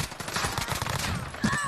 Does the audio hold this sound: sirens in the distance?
no